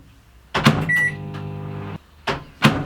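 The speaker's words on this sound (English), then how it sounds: "So I'm just literally going to give it sort of 5 seconds in the microwave." A microwave oven warming a soap mixture: a door thud and a button beep, then a low steady hum for about a second and a half, followed by two sharp clunks of the door opening and closing.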